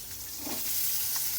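Okra fries in a pan with turmeric, giving a close, steady sizzle with a soft stirring scrape and a faint hiss rising slightly over a brief moment, without speech.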